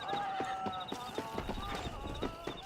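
Horse hooves in the Western video game Red Dead Redemption, a steady clip-clop rhythm with a faint whinny early on, set among game ambience and music at moderate loudness.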